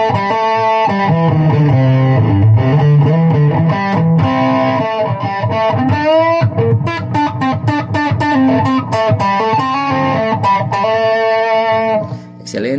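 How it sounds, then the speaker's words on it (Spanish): Electric guitar played through the overdrive and distortion of a Line 6 Floor Pod Plus multi-effects pedalboard, loud gritty chords and riffs ringing out with sustained notes, no talk over it. "Excelente la distorsión"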